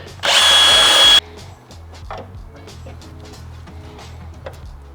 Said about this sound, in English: So drill the 2 holes for those 2.